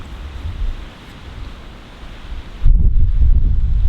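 Wind buffets across an open golf course on a blustery day, a low rumbling rush that swells in gusts and turns heavier near the end, close and unbroken.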